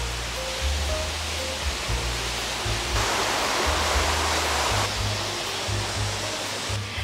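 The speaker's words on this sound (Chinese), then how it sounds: "一直行咧，隔篱都系一个水流嚟噶啦" A stream flowing beside a hiking path in a Hong Kong country park, heard as a loud, steady rushing wash of water that runs throughout with no talking.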